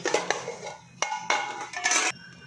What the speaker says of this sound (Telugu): మిశ్రమం ఉంచిన గిన్నెని మనం ఇందులో పెట్టుకోవాలి